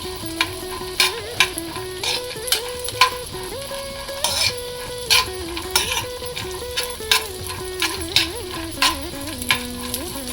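Raisins fry in hot fat in a pan for a garden cress seed ladoo, giving a steady sizzle with frequent light clicks and scrapes of a spoon stirring, close and without speech.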